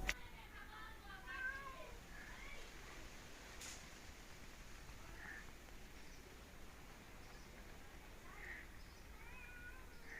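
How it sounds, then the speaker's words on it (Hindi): Cats, one black and one white, meow faintly a few times in an outdoor setting, over a quiet background with light rustling. "काली बिल्ली भी आ चुकी है और वो जो दूसरी बिल्ली है वाइट वाली, ये भी दूर बैठी हुई है"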